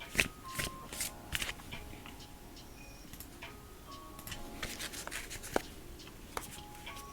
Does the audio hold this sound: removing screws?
no